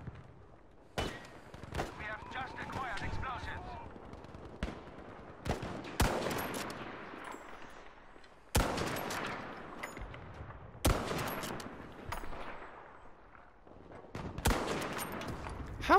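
Gunfire in the Battlefield V video game crackles in repeated sharp bursts and single shots over about sixteen seconds, some close and loud, others farther off, with a player's voice talking over the shooting.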